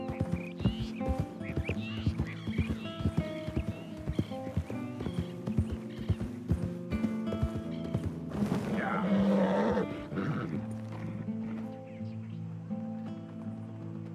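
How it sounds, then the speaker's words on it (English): In Red Dead Redemption 2, hooves clip-clop in a steady rhythm, then a horse lets out a loud whinny before the sound settles into a lower tone. "Horse is awfully vocal, I'm telling you."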